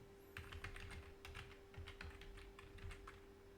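Computer keyboard keys tapped in quick irregular bursts while a command is typed into a Linux terminal, close and fairly clear over a steady low electrical hum.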